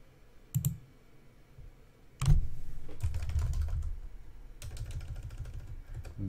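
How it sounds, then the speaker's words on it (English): Typing on a computer keyboard, a few isolated clicks followed by bursts of quick, close key presses in a quiet room. "I am typing now in Colmec."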